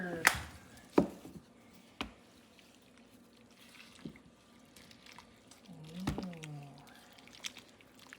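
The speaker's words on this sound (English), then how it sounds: "We can put some fresh cilantro. We can chop it up." Fresh cilantro being chopped for garden salsa: a few sharp, separate knife strikes on a board, spaced about a second apart, with soft kitchen clatter and a brief liquid sound between them, close and fairly quiet.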